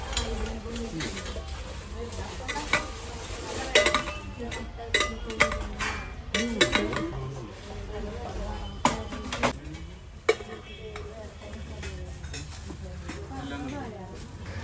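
Steel rice-gruel pots and other stainless steel utensils clatter and clink as they are handled in a shop, with intermittent metallic knocks over a busy background while people talk.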